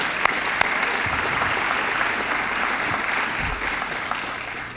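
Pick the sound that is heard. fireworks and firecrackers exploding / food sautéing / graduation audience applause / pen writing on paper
graduation audience applause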